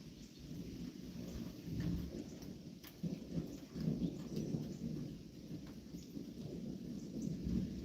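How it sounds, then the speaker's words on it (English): Far-off thunder rolls and rumbles low beneath a steady patter of rain as a storm moves in, with a few sharp drops or cracks standing out, faint overall and free of talk. "Checking out these clouds, storm coming in."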